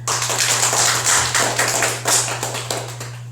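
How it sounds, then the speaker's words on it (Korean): A church congregation gathered for a revival meeting claps in welcome, a dense burst of applause close by that keeps going for a few seconds over a steady low hum. "우리 박수로 환영합니다."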